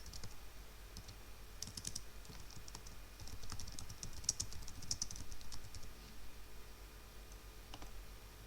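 Text is typed into an image editor on a computer keyboard, quick quiet clicks in irregular bursts that thicken midway and trail off, with no talking.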